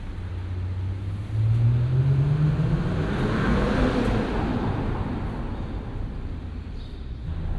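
A 2025 Mercedes-AMG CLE 53 Cabriolet with a 443 hp turbocharged inline-six pulls hard in first gear, a loud steady engine drone rising in pitch for several seconds from close range.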